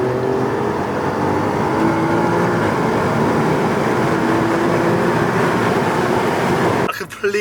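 An Alfa Romeo Giulia QV saloon drives at speed, with a steady droning engine and road noise heard from inside the cabin, fairly loud and continuous, then a brief clatter at the end; people talk over it.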